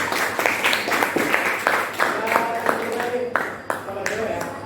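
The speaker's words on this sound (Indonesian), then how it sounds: "Kasih tepuk tangan Denis." Classmates clap for a student, uneven claps scattered through a noisy classroom with chatter underneath, the sharp hits spreading out toward the end.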